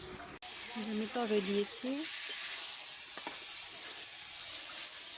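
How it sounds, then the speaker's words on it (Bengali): Turmeric, chili powder and salt sizzling and frying in a pan, cooked outdoors in the sun: a continuous crackling hiss, with a short spoken phrase near the start. "দেখেন আমি এখানে হলুদ গুঁড়া মরিচ গুঁড়া লবণ দিয়ে কষিয়ে নিচ্ছি"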